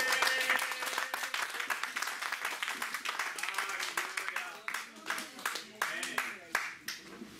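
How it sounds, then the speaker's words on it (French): Church congregation clapping in praise of the Lord at a French-language worship service, a steady wash of many hands that thins toward sharper, more separate claps near the end, with voices mixed in throughout. "Acclamez pour le Seigneur."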